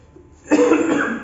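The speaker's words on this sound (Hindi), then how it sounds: "लगातार बोलते बोलते गले में खांसी आने लगी ना" A Hindi teacher gives a single hoarse cough after a moment of quiet during a class lesson, close and loud.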